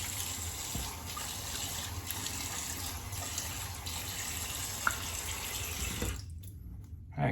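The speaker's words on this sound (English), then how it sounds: "get a quick rinse" Tap water runs steadily for a quick rinse during a wet shave, a close, continuous broadband hiss into a sink that stops abruptly near the end, followed by a brief faint clatter.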